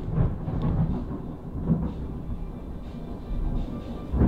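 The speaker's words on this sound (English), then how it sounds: "Oh, I just saw a flash of lightning." Low thunder rumbles through a rainstorm, a steady deep roll with a few swelling peaks, heard indoors over a constant background wash and without speech.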